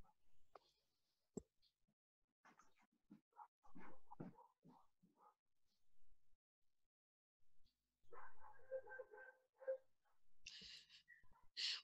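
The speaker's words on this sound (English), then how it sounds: "I have a dog going woof woof woof woof in the background" A dog barks a few times in the background, with short, fairly faint bursts scattered between quieter stretches, while soft clicks and breathing sounds can be heard close by.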